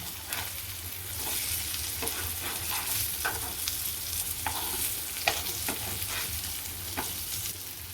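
Surmai fish steaks fry in a pan over medium heat after being flipped, a steady close sizzle and crackle with a few sharp spatter pops, with no one talking.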